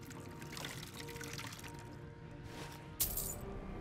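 Water pouring in Skyrim as a container is refilled, a steady low trickle under ambient game sound, ending in a brighter splash near the end.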